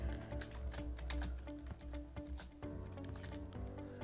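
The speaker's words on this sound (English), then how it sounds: "you can then start typing in the name of your tutor" Quick, continuous clatter of fingers typing on a computer keyboard, close and fairly quiet, with dense irregular keystrokes throughout.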